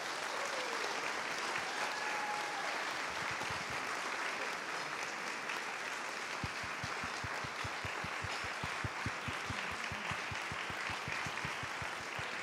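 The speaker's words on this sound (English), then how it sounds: "Let's please give an Oklahoma round of applause to our own Mason Williams" A theater audience applauds steadily for a performer in a dense, continuous wash of clapping, with individual claps growing more distinct and rhythmic in the second half as the crowd joins in unison.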